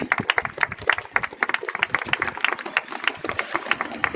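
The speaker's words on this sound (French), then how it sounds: "Donc j'aimerais qu'on l'applaudisse." Ragged clapping from an outdoor rally crowd in Brussels at a march against child abuse, many hands beating in quick, uneven rhythm, moderately close and sustained.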